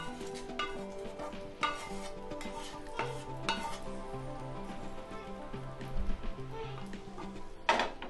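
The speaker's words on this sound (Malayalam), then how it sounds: "ഇനി ആ വറുത്ത മിക്സ്ചറിനെ നമുക്ക് ഇതിലേക്കൊന്ന് ഒഴിച്ചു കൊടുക്കാം" A hot fried tempering is poured into cucumber and carrot curd rice and stirred in, giving a brief sizzle and then repeated soft scraping and light utensil clinks, with a faint tonal background.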